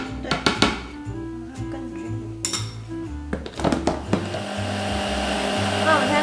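A kitchen blender whirs in stepped bursts, its motor pitch jumping between levels as it blends a plant-based egg batter. Clinks of dishes and utensils come between bursts, and a long steady run of the motor follows, all close by.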